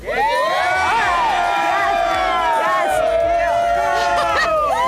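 Excited crowd of San Antonio Spurs fans cheering and shouting for the first draft pick, loud sustained whoops and high-pitched voices including children's, close and overlapping throughout.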